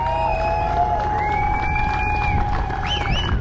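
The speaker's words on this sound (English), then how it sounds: "you need to make a big cheer for this guy" A crowd at Vanlove Fest, held at Elvington Airfield in York, cheers and whoops for Mike Copeland, the Fridge Man. The cheering is continuous and fairly loud, with whistles and shouts rising near the end.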